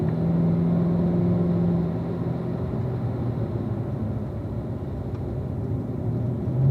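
A car accelerating out of a corner on a race track, heard from inside as a steady droning engine rumble that holds at an even level.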